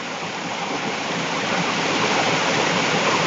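Heavy hail in Madrid hammering down on parked cars makes a dense, steady roar of countless hits with no gaps, loud and continuous, rising slightly in strength.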